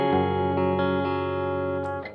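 A single sustained electric guitar chord through a King of Tone overdrive pedal with reverb rings out through an AC30 amp, holding steady and then fading slightly at the end.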